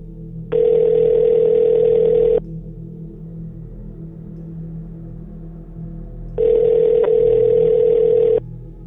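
A telephone dial tone sounds loud and steady in two long beeps of about two seconds each, separated by a quiet pause over low background hum, as a call is being placed.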